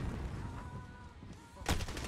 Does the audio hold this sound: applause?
no